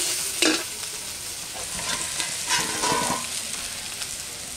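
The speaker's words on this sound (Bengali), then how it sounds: "এখন আমি চাউমিনগুলো দিয়ে দেবো।" Boiled chow mein noodles are tossed into a pan of lightly fried vegetables and stir-fried, giving a steady sizzle with scraping stirring bursts, close and moderately loud, with no voices.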